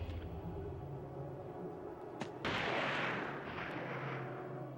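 Distant booming video game gunfire with a sharp crack followed by a rolling blast and rumble, heard over a steady low background hum.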